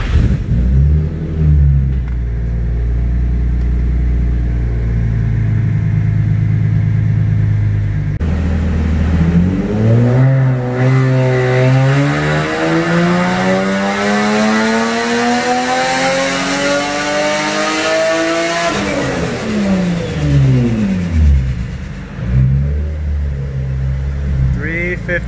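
Nissan 350Z fitted with a rear-mount turbo running low boost, its engine loud and close as it idles, then revs up in a long rising pull through the gears before dropping back to idle.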